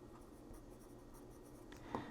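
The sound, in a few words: carpentry pencil writing on paper, scritching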